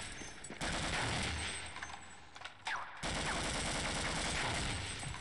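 Sustained enemy gunfire in the Half-Life video game, a dense, loud fusillade of automatic shots that pauses briefly twice, then resumes and keeps going without voices.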